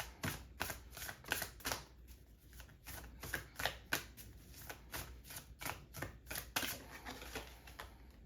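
Oracle cards are shuffled by hand in quiet, close bursts of crisp riffling and flicking, a rhythmic series of soft slaps repeating across several seconds with no speech.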